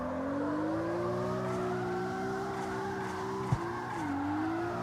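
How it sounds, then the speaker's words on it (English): A tuned street car in the racing game CarX Street holds a steady engine drone, then a sharp blow-off valve puff cuts in near the end and the revs dip and recover. "Nice blow-off sound"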